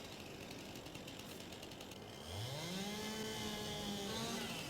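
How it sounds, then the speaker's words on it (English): Chainsaw in Farming Simulator 22 cutting a pine or birch tree, engine idling then revving up into a loud sustained rising whine, close and steady, with no speech. "let's get to a chainsaw"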